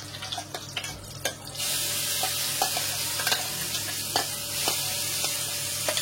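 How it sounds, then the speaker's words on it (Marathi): Chutney tempering (phodni) crackles and sizzles loudly in hot oil, starting with sharp pops and then settling into a dense, continuous close-up fry with scattered spits. "तर गाईज फोडणी देते चटणीला."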